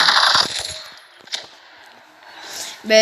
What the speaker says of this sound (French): je vais y aller à la mitraillette, ça sera déjà plus facile